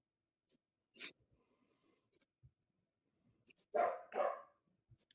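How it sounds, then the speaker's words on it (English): A dog barks inside a house, two loud close barks in quick succession after a few fainter yelps and small household noises. "I have a dog with a problem in my house too right now"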